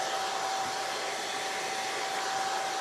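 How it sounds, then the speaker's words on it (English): A hair dryer blows steadily and fairly close, a constant whooshing whine with no breaks, drying a thin decoupaged napkin on a wooden bunny decor block. "Okay, my dryer."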